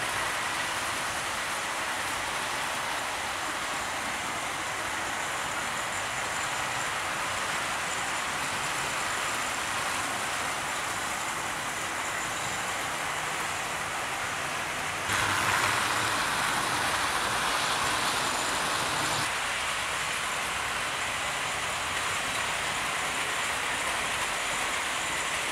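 A Tri-ang Flying Scotsman model locomotive runs steadily along its track and up an incline without slowing, giving a continuous close whirring rattle with no speech; the noise swells slightly louder for a few seconds past the midpoint before settling back.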